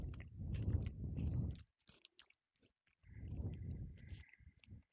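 A sake-flavoured Japanese Kit Kat wafer is chewed close to the mic in two bursts of soft, crunchy mastication separated by a near-silent pause, faint overall with no talk.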